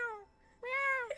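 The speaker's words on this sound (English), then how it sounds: "All I can hear is the cat." A cat meows twice up close, a short falling call followed by a longer drawn-out one, loud and clear over near silence.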